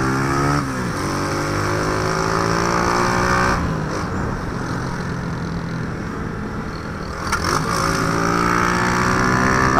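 A motorcycle ridden hard at full throttle, engine roaring loud and close with rising harmonic sweeps as it revs through gears, easing briefly midway before climbing again; no talk.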